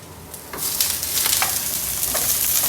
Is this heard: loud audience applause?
no